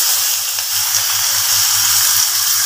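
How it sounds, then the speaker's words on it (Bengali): Onions frying in hot oil for a knife fish curry, a loud, steady close-up sizzle that hisses continuously without pause. "এ দেখো পেঁয়াজ দিলাম"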